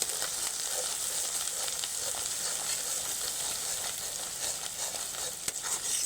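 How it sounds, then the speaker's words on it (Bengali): Spices with Kashmiri chili powder and salt stirred and frying in hot oil for an egg curry with mustard-poppy paste, giving a steady close sizzle with soft scraping stir strokes throughout and no voices. "একসঙ্গে সমস্ত মশলা নেড়ে নেব"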